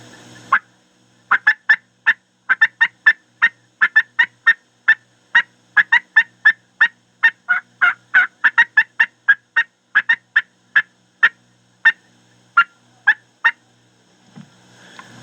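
A diaphragm mouth call blown by a person imitating a turkey cutting call, loud sharp staccato clucks fired in fast irregular bursts of about thirty, close and alone with no talking.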